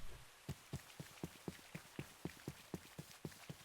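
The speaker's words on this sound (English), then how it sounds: "The ground is actually making sloshing noises." In a Minecraft FTB Academy modpack, footsteps slosh on wet ground in a quick, even rhythm of about four steps a second. They are faint, with no other sound.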